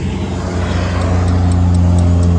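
A big truck rumbles past in street traffic, a steady, loud, close engine drone with deep low-frequency hum that holds throughout and no talking.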